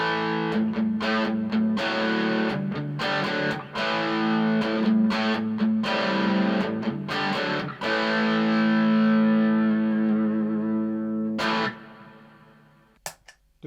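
Electric guitar played through a budget amp simulator pedal with drive, strummed chords ringing out loud and sustained, several crisp attacks before a final chord decays and a few quiet muted clicks at the end.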